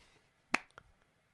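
A single sharp, close hand clap rings out in a quiet room, followed by a faint softer tap, with no one talking.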